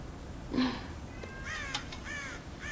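Crows caw around a farm silo in Red Dead Redemption, a few scattered harsh calls, one lower croak followed by higher overlapping caws, moderately close over quiet outdoor ambience.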